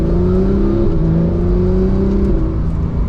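A 991.2 Porsche 911 GT3 accelerates gently, its engine giving a smooth, steady low drone with slowly rising harmonic tones, heard close from inside the cabin with no talking.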